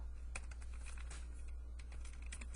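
A computer keyboard is typed on in a quick, faint patter of keystrokes over a low steady hum, with no voices.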